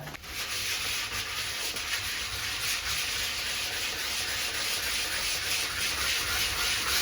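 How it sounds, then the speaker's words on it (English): Sandpaper rubs over a Homax nail-hole patch on a wall in a steady, continuous close scratching that holds at even loudness throughout, with no talking. "I sanded it down"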